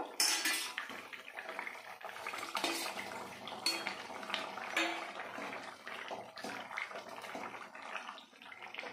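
Fried tilapia pieces being added to a simmering kohlrabi and potato curry in a pot, with light clinks of a metal utensil against the pot and soft wet bubbling, fairly quiet and close.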